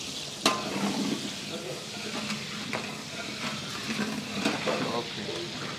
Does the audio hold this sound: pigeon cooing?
no